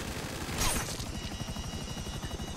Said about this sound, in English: Oh, that helicopter. I thought he crashed.